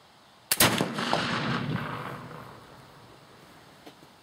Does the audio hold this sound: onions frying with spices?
no